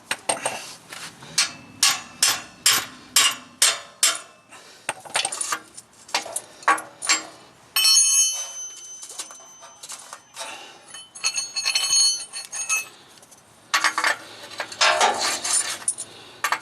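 A hammer strikes a wrench to break loose the downstream O2 sensor on a Pontiac Grand Am 3.4, ringing out in a series of sharp metallic taps, first rhythmic then scattered, with clinking and shuffling between bursts.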